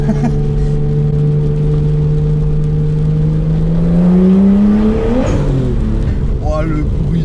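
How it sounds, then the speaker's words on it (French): A Nissan R33 Skyline GTST with its RB25 engine revs up loudly from inside the car, pitch rising steadily before a gear change and a fresh climb, with people talking faintly under the engine. "Oh, le bruit du RB25."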